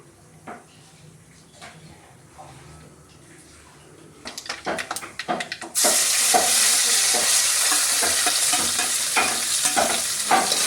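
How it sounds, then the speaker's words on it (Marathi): Gravy for a paneer curry, with mustard seeds and cumin, is stirred and sautéed in hot oil. Scattered clinks and scraping come first, then a loud, steady sizzle and frying hiss takes over with repeated stirring scrapes. "जी ग्रेव्ही तिनं तयार केलेली आहे ना ती आता ती पूर्ण तेलावरती अशी परतवून घेणार आहे"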